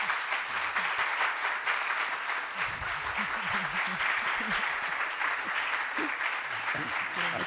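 An audience at a talk on transition and territory applauds steadily, a thick, even wash of many hands clapping that stays loud and constant throughout, with faint voices underneath.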